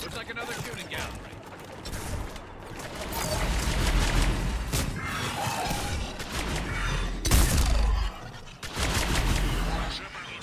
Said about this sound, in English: We're in the middle of a firefight right now.